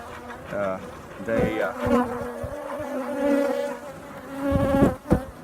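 Steady, dense buzzing of many bees close by around an open top bar hive, a continuous droning hum that swells and fades slightly, with soft rustling underneath.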